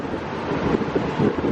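Strong wind buffets the microphone on a boat near an Alaskan glacier, making a loud, constant rumbling roar with gusty swells.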